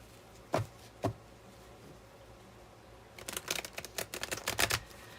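Two sharp card taps ring out, then a rapid flurry of crisp riffling and snapping as a deck of tarot cards is shuffled nearby.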